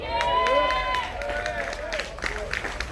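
At a live poetry and comedy concert by the sea in Jamaica, the audience gives a scattered round of applause, with loose claps heard under a voice and a tonal backing sound.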